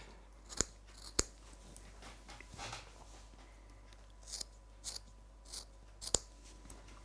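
Scissors cut through a knitted vintage sweater in several separate snips, each a short crisp crunch close by, spaced unevenly over a quiet room background.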